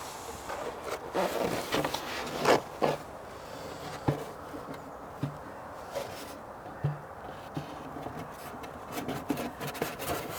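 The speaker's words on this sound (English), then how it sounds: "So we'll pop the roof back on." Polystyrene roof being set back onto a poly beehive during a March colony check, giving soft scattered rubbing, scraping and knocking sounds close by at a low level, with no talk.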